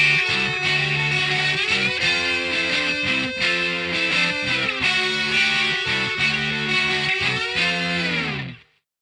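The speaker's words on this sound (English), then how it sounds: "So there's a rhythm, a lead line, and a slide line" Distorted electric guitar plays a bridge with layered rhythm chords, a lead line and gliding slide notes, loud and steady throughout before cutting off abruptly at the end.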